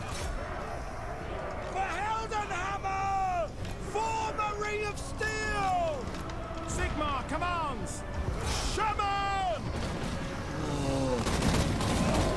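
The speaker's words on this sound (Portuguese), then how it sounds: "Gigante entrou, tiro de canhão de salva na cara dele," Repeated cannon salvo fire in the strategy game Total War: Warhammer 2, loud booms spread across the battle as a giant charges in, mixed with whooshing projectiles and clashing combat noise, with someone talking over it.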